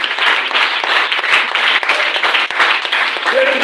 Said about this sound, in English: Please join me in applauding our principal.